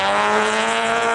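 A Toyota rally car with a little 4AG engine slides with its handbrake locked on a forest stage, engine screaming at high revs in a loud, steady, close burst.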